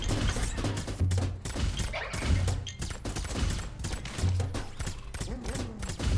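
Rapid turret gunfire in the robot twin-stick roguelike Iron Evil, a dense, continuous barrage of shots and impacts under game music, with a faint voice underneath.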